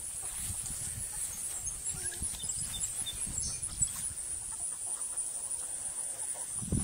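Dominique chickens, a rooster with a wry tail and two hens, cluck softly amid steady outdoor background noise, with no crowing standing out.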